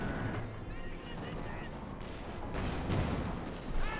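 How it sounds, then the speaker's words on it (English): Grenades, artillery and M1 carbine rifle fire pound a position in Company of Heroes 2: a busy, mid-distance clatter of shots and thuds, with a couple of heavier bursts near the end, under a talking voice. "it's being hammered here by grenades, artillery, and of course rifle fire there from the M1 carbines"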